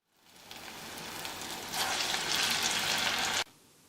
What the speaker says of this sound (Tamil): இப்போ நம்மளோட வடைகள் எல்லாத்தையும் எண்ணெயில் சேர்த்தாச்சு